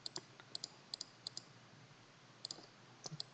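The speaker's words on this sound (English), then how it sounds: "click." Quiet, sharp clicks from a computer mouse during Photoshop editing come in small clusters and pairs with short pauses between them, faint and close, with no talking.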